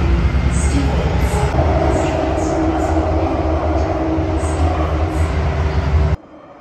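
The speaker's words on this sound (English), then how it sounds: "The train enters Stevens Station on Platform D, which is normally utilized by southbound trains." Thomson-East Coast Line metro train pulling into Stevens station on a southbound platform, a loud steady rumble of wheels and motors with a faint high whine, running continuously before cutting off abruptly near the end.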